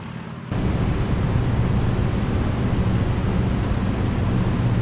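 The steady, dense roar of the A2A B-17 bomber's propeller engines in the FSX simulator starts abruptly and holds constant and loud for several seconds, with no voices.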